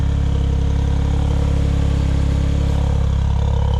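Car engine idling steadily just after a cold start on a very cold day, the Keisport-tuned engine running on an N1 ECU with an even, low mechanical hum and light clatter, close and continuous, no talk.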